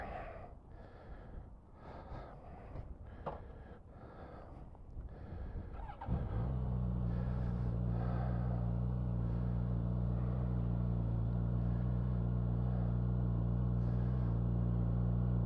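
A 2023 Suzuki GSX-S1000GT motorcycle engine fires up partway through, after some shuffling handling noise, and settles into a steady, rumbling idle with a raspy edge. Close and fairly quiet overall, with no talking.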